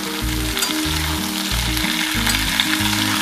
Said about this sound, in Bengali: এইবার নুন দিয়ে আঁচ কমিয়ে কমিয়ে আমি এটাকে ভাজবো